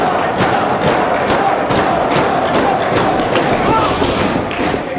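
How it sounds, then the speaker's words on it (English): A wrestling arena crowd roars and cheers steadily throughout a title match, a dense continuous wall of noise with scattered thuds from the ring and a commentator talking over it. "This crowd now getting behind James Gibson."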